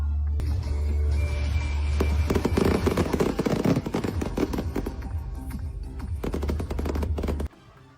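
New Year's Eve fireworks in the Philippines crackle in rapid, dense bursts like gunfire. Sharp pops pile over a steady low rumble, loud and close, before cutting off abruptly.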